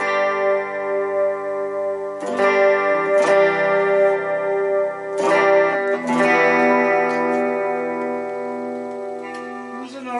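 Electric guitar played through a Behringer UC200 chorus pedal into a 100-watt 1x12 Katana amp with a little reverb, sustained chorused chords ringing loud and shimmering, restruck three times with long decays, no talking.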